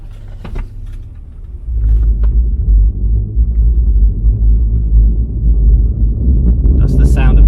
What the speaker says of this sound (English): That's the sound of the sand.